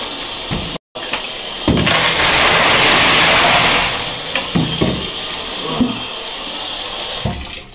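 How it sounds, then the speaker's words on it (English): Water gushes loudly into a hotel bathtub being filled for an ice bath, a steady rushing flow close by with a few knocks and clunks over it. "That's an ice bath running."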